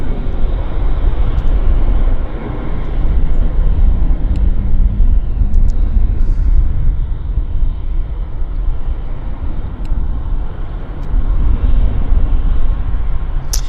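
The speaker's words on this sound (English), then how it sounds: "beautiful classic airliner without the winglets" A classic airliner without winglets passes at Vancouver Airport, its engines a steady, loud broadband roar that stays fairly constant throughout, with no talk over it.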